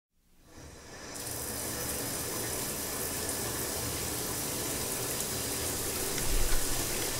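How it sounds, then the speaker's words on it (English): Water starting up and running steadily as a shower is turned on, a broad close hiss that builds within the first second and then holds steady. "I'm gonna take a quick shower."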